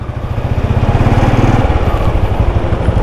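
A motorcycle engine runs steadily nearby, a loud, even throbbing putter with a fast regular pulse that holds constant throughout, no talking over it.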